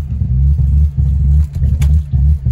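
A wrecked Kia Stinger GT2 engine idles roughly in park, a loud, close, uneven low rumble that surges and dips in a lumpy, stumbling rhythm with brief drops between pulses.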